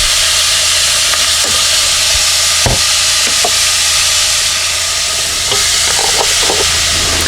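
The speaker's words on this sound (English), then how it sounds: "And while that's sauteing, we'll add a little bit of our garlic." Vegetables and garlic sautéing with sausage and ground beef for risotto Florentine, a loud, steady, close sizzle with occasional scrapes and clicks of stirring.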